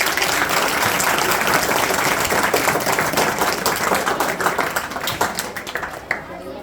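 Sustained applause from an audience at a school annual day stage performance, dense and steady clapping throughout that thins out slightly toward the end.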